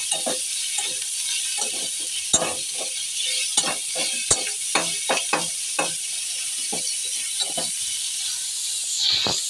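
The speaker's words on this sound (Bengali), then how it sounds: "পেঁয়াজটা আমার ভাজা হয়ে এসেছে।" Chopped raw onions fry in oil in a wok with a steady loud sizzle, broken by frequent scraping and clacking taps as they are stirred, close up and with no voices.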